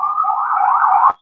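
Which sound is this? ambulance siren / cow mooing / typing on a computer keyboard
ambulance siren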